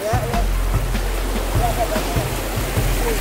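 A fast-flowing shallow river current rushes and splashes close by, a continuous watery roar with bursts of gurgling, while a person talks over it.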